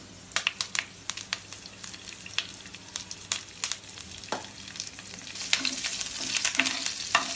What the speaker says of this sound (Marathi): जिरं छान पॉपअप झालं की आपण त्याच्यात मिरच्या आणि कढीपत्ता टाकणार आहोत